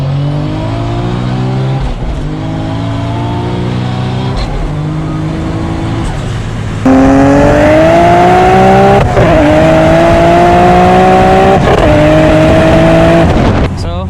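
A Toyota Supra pulls hard in a drag run, engine climbing through rising revs with a gear change, then a louder second surge screaming upward, close and dominant.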